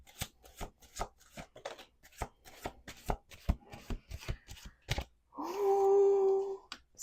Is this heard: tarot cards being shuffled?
yes